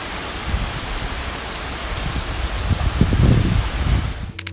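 Torrential rain pours down in a dense, steady roar that swells louder toward the end, with heavy drops drumming on surfaces close by.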